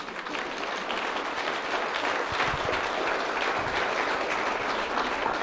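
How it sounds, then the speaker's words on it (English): Audience at a school debate event clapping together, a continuous, fairly even round of applause filling the room without speech. "You have to clap now."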